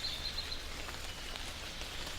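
Steady rain falling in a tropical rainforest, a dense continuous hiss of drops on leaves, with a few faint high bird chirps at the start.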